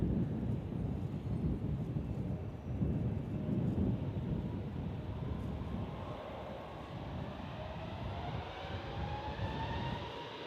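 Jet airliners from Qatar Airways and Emirates at San Francisco International Airport give a steady, loud, broad engine roar that holds for the whole stretch, with a rising whine swelling toward the end. No voices.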